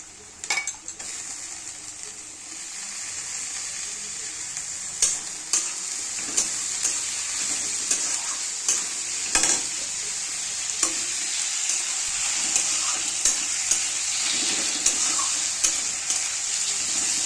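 Chopped potatoes fry in hot oil while being stirred, a continuous sizzle close by, punctuated by regular clinks and scrapes of a spoon against the pan, with no one talking.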